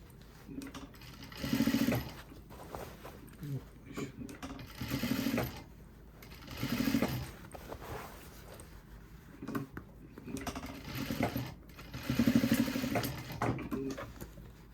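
A sewing machine stitching the pocket lining of a pair of jeans whirs close by in repeated short runs, speeding up and slowing between pauses, with a mechanical hum underneath.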